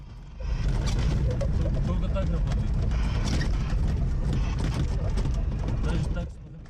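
A legendary old Lada Niva is driving toward evening in rural Dagestan, with a steady loud engine and road rumble from inside the car, plus rattling over rough ground, continuous for several seconds before easing off at the end.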